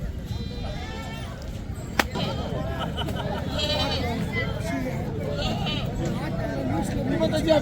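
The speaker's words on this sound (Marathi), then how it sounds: "साड्या शेळ्या आहेत बघा" Goats bleat repeatedly amid a busy Monday goat market in Kalamb, their calls rising over constant crowd murmur and nearby talking, with one sharp knock partway through.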